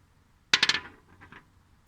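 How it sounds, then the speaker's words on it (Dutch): A die is dropped and rolled on a hard surface: a sharp first impact followed by a quick run of rattling clicks that tapers into a few fainter taps, close up with no voices. "Of je kan met de dobbelsteen rollen."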